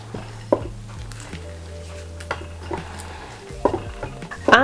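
Caramel chunks being folded into chocolate donut batter in a bowl, soft wet scraping and occasional light clinks of a spatula against the bowl, close and quiet with a brief louder knock near the end.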